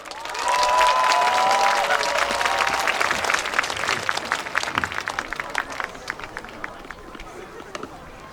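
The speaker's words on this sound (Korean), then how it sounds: "우리 귀여운 보이스의 주인공 크리샤 주의 무대입니다 여러분 큰 박수" Crowd at an outdoor Gunpo Citizens' Day festival cheers and claps as Kriesha Chu's stage begins. A loud burst of applause with a whistle and shouts fades into thinning, scattered claps, and chatter is mixed in.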